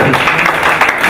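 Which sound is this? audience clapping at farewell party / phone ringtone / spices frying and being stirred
audience clapping at farewell party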